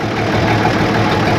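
An old FNM 180 diesel truck engine idles steadily after sitting unused for three years, a continuous close rumble with an even, low throb and no talking.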